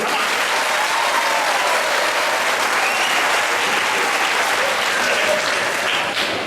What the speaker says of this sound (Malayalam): എല്ലാവരും കൂടെ കൂടി ഒന്ന് കൈയടിച്ച്